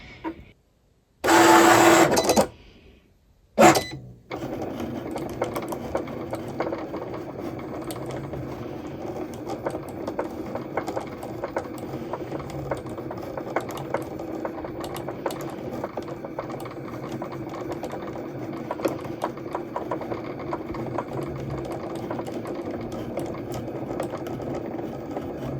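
A desktop cutting machine cuts toad shapes out of a sheet with a steady, close mechanical whir and a faint ticking texture that runs on. It starts after a few short loud bursts and stops.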